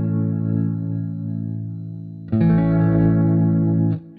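MIDI guitar run through a Sennheiser Ambio Orbit surround panning plugin, sustained processed tones with chorus-like shimmer that jump louder and brighter partway through, then drop away near the end, with no talking.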